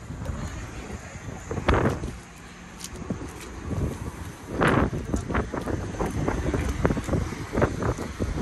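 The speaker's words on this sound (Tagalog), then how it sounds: "Malakas ang hangin eh." Strong gusts of wind batter the microphone outdoors in cold Canadian weather, rumbling buffets swelling and easing in irregular bursts, loud and close.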